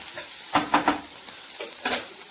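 Chopped onion hitting hot oil in a pan, a close sizzle with several bursts of crackle and stirring scrapes.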